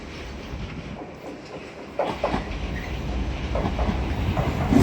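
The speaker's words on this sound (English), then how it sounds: "departing now is 1419 LNER Azuma service from Bradford Foster Square to London King's Cross" An LNER Azuma passenger train, the Bradford Foster Square to London King's Cross service, departs Doncaster station on the East Coast Main Line. A low, steady rumble builds with rhythmic wheel clicks as it pulls away nearby.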